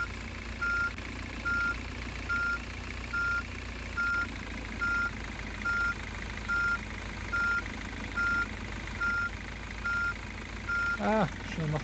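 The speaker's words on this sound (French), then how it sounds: "je suis en marche arrière" Rhythmic reversing beeps from a street cleaning vehicle in a street cleaning simulator game, a steady run of evenly spaced electronic tones over a continuous engine rumble, loud and close.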